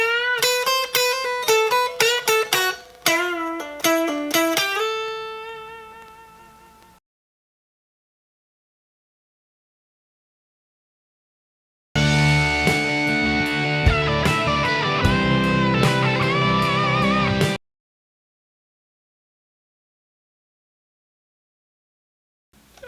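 An electric guitar plays a melodic Mixolydian lick of ringing plucked notes, starting with a clear phrase that fades out, then a denser, fuller passage after a pause of silence, with no talking.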